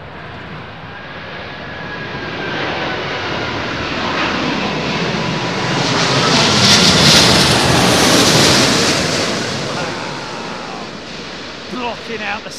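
An Airbus A380 comes in to land at London Heathrow in high winds, its jet engines swelling into a loud, broad roar overhead that peaks mid-pass and then fades, with gusty wind buffeting the microphone throughout.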